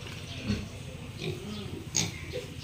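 Pigs grunt in a pen on a Philippine hog farm, several low, close oinks in an irregular rhythm over a steady background hum of the barn, without any speech.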